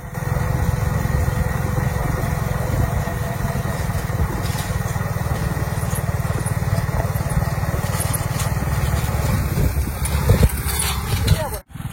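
Homemade Formula 1 style car powered by a scooter engine, driving with a steady, buzzing high-revving drone carrying a passenger, continuous and close throughout before a brief sharper burst near the end.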